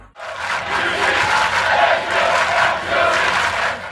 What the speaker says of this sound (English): Huge crowd here tonight.